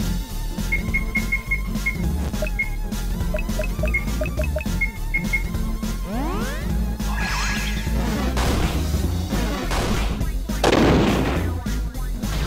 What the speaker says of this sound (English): Magic missile.